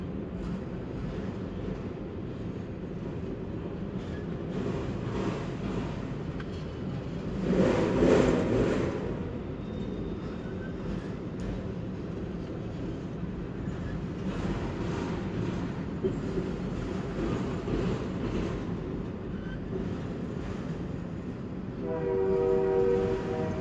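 An outbound CN freight train rumbles past steadily for over twenty seconds, with a loud horn blast in the middle and another sounding near the end over the continuous rolling of the cars.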